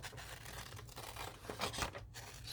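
Quiet rustling and snipping as scissors cut paper and it crinkles close up, a few short scrapes with no talking.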